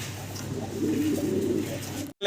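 A black Lahori pigeon gives a short, low, throaty coo close by, a single soft rolling call before an abrupt cut.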